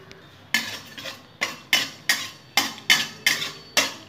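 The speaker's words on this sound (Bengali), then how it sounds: "এখন আমি একটু 5 ফোড়নটা শুকনো খোলায় নেড়ে নেবো" Panch phoron spices stirred in a dry pan, about ten sharp, evenly spaced scraping strokes of a utensil against the metal, close and crisp with quiet gaps between.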